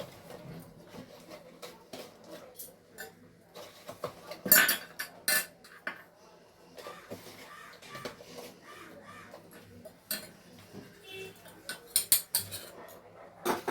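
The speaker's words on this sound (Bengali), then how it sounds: "এই কাপটার মধ্যে আমি দুধ দিয়ে গুলে নেব।" A spoon stirs custard powder into milk in a cup, giving intermittent light clinks and taps against the sides, close and soft, with a few sharper knocks along the way.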